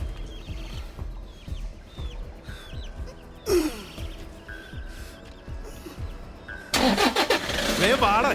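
A vehicle engine cranking and starting, with repeated low starter pulses followed by bursts of engine noise, mixed with chickens clucking nearby and louder noise near the end.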